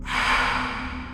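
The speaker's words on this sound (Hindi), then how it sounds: "सिर्फ सांसों की आवाज आती है।" A single heavy breath, heard as a horror effect of breathing down a phone line: one long, close, breathy exhale lasting about a second, with no talking.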